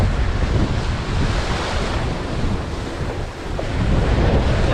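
Ocean waves crash and wash continuously on a Bermuda shoreline, a loud, full roar of surf with gusting wind buffeting the microphone and no voices.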